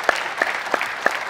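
Audience clapping on a televised quiz show, heard as four slow, evenly spaced claps, crisp and close, with no speech over them.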